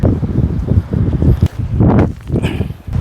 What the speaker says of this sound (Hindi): एकदम ठंडी ठंडी हवा चल रही है